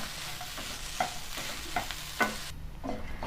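Crumbled idli gets stirred into masala in a pan for idli upma, with soft frying sizzle beneath a few distinct spatula scrapes and clicks against the pan, close and fairly quiet.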